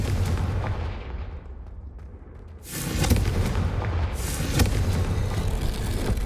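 A Confringo blasting spell explodes in Hogwarts Legacy: a low rumbling backdrop swells into a heavy, booming blast, followed by further crackling bursts that keep the sound loud and dense.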